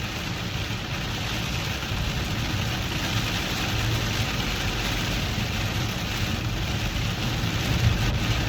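Steady heavy rain falling in Minecraft, a constant even hiss and patter at low level with no breaks or other sounds.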